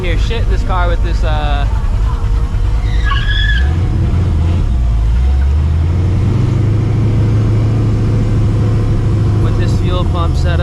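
A 600 hp cammed and ProCharged 1999 Mustang GT driving at night, its engine note rising and settling through revs with tire squeal, loud and close, with someone talking over it early on.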